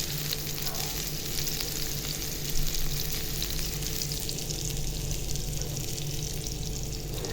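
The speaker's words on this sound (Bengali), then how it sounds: "আমি পেঁয়াজটা এখন ভেজে নেব ভালো করে" Onions frying in oil for Maggi noodles give a steady, bright crackling sizzle with occasional stirring scrapes, close and continuous, with no voices.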